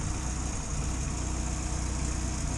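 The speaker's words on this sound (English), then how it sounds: "That is the first start of this new engine" A newly fitted engine idles steadily right after its first start, a close, even, continuous rumble with no breaks.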